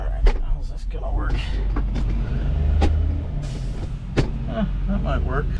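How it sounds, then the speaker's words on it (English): Dump trucks pass on a nearby road, a loud steady rumble of heavy engines with a brief hiss and clunk, heard outdoors beside a 1975 Chevy/Isuzu diesel K10 pickup. "Oh, we got dump trucks going by."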